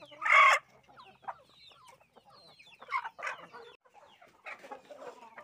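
Backyard laying hens cluck and call close by in short bursts, one loud squawk at the start followed by softer overlapping clucks.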